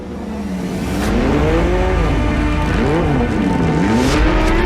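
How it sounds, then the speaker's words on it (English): A Porsche 911 GT3 Cup race car's six-cylinder boxer engine revs loud and close, its pitch rising and falling through repeated gear changes in one continuous roar. "the big key in the back is the six-cylinder Boxer with its unmistakable sound"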